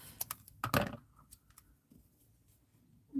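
Scissors snip through a scrap of paper in a few sharp, close cuts near the start, followed by softer rustling and small handling clicks in a quiet room.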